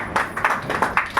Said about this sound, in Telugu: మరి పొందుకున్న వాళ్ళు చప్పట్లు కొట్టండి.